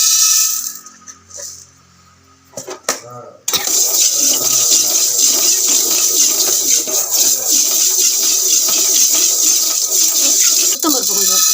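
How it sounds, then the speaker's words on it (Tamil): Chana dal and black pepper being dry-roasted in a pan over low heat, a dense continuous rattling and scraping of grains that starts abruptly after a quieter opening with a few clinks. "இப்போ மிளகையும் கொட்டி வறுத்துக்கலாம்."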